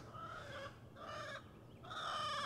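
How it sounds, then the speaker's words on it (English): A loud chicken clucks in repeated bursts close by in a coop area, with steady background noise between calls. "That's a loud chicken."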